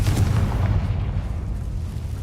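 In the video game Hogwarts Legacy, a Confringo blasting spell explodes with a heavy, loud boom that rumbles and decays over about two seconds.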